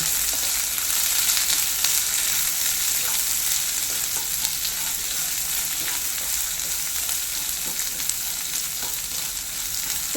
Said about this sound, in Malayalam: ഉള്ളി ഒന്ന് ചെറുതായിട്ടൊന്ന് വാടി വരണം ഒരുപാടങ്ങ് വാടണ്ട ആ പച്ചപ്പൊന്ന് മാറുന്നിടം വരെ ഒന്ന് ഇളക്കി കൊടുക്കാം